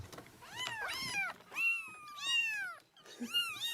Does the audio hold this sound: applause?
no